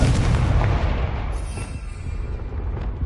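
A Confringo fire spell blast in Hogwarts Legacy on PS5, a loud booming explosion that rumbles and decays over a few seconds in an enclosed space.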